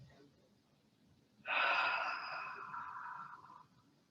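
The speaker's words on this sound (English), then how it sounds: "taking a deep breath in, letting everything go as you exhale" A slow, deep breath during a chair yoga session: a soft inhale followed by a long, steady, airy exhale that fades out, close and alone.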